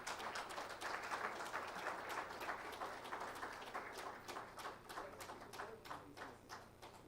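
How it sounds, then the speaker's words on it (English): Audience applause at a CSR summit at India Habitat Centre, a sustained patter of many hands clapping, fairly faint and distant, fading slightly toward the end. "Can I have a big round of applause, please?"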